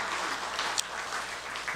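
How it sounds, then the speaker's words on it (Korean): A church congregation applauds, a dense, even burst of many hands clapping for under two seconds, heard on its own. "서로에게 감사의 박수를 한번 하셨으면 좋겠습니다."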